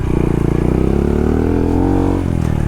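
A motorcycle fitted with new tires rides a soft sand trail, its engine droning loud and close with a steady, slightly rising pitch that dips briefly near the end.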